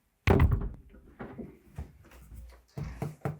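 Interior door swinging into a door stop, a sharp thump followed by smaller knocks and rattles, then a couple more light taps, close and alone.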